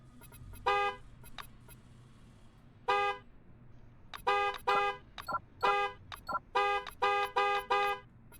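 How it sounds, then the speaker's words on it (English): A vehicle horn in the video game Encased honks in repeated bursts, a few isolated toots early, then rapid clusters of short honks over a low engine hum, with no talking. "I'll honk."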